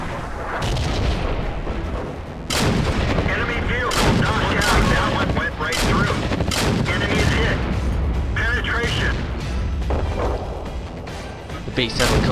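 Repeated heavy tank cannon blasts and explosions from World of Tanks gameplay with a T1E6 light tank engaging a BT-7, loud sharp booms recurring every few seconds over game noise, with someone commentating throughout.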